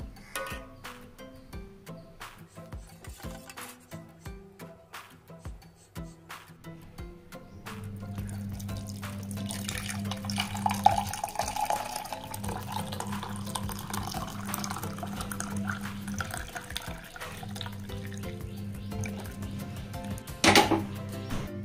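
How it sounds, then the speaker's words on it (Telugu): Boiled water spiced with cumin, clove, cinnamon and ginger pours and trickles steadily through a strainer after scattered clicks and knocks, with a low hum underneath and a sharp clink near the end. "అలా మరిగించుకున్న తర్వాత ఈ వాటర్ని స్ట్రెయిన్ చేయాలి"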